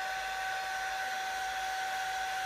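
A hair dryer blowing steadily on a small dog after her bath, a continuous close whirring roar with a bright whine, unchanging for the whole stretch.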